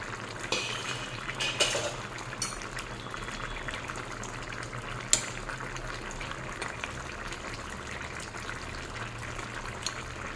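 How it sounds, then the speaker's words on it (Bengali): Fish curry with potatoes, drumsticks and tomatoes simmers in a pan while a utensil stirs and presses it, making soft bubbling and wet movement with scattered clinks and scrapes against the metal over a low, steady background. "একটু চেপে চেপে ঝোলের সঙ্গে আমি ডুবিয়ে দেব।"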